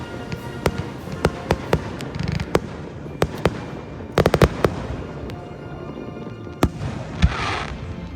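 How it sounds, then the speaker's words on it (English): Fireworks being set off by people during a 4th of July holiday evening near a levee, a string of sharp cracks and pops scattered irregularly across the clip, some in quick bursts, over a low outdoor rumble with no talking. "so many people were shooting off their own fireworks"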